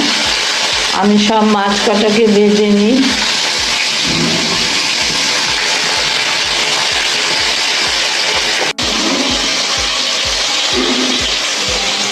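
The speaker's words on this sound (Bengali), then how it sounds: "আমি মাছ ভাজা বসিয়ে দিলাম বন্ধুরা" Fish frying in a hot wok of oil, a steady dense sizzle that runs the whole time, with a humming tonal noise in the first few seconds and a brief dropout near the end.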